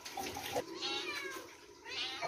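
A cat meows repeatedly near a running water tap, its whiny calls rising over the steady hiss of water.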